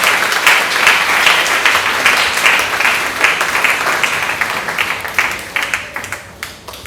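A church congregation at a Sunday service bursts into sustained applause, dense and lively clapping from many hands filling the room, gradually thinning toward the end.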